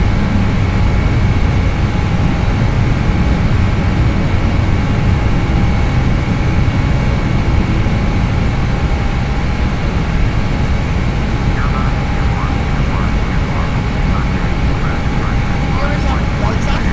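Jet engines of an Aerosoft Airbus X airliner roar loud and steady in a flight simulator game, a broad continuous rumble sustained throughout the takeoff climb without letup.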